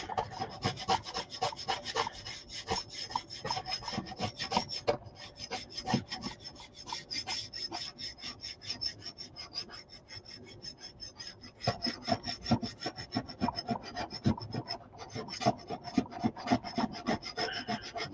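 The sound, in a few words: scraping clean with a scraper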